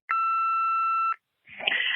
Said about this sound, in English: Here's the beep.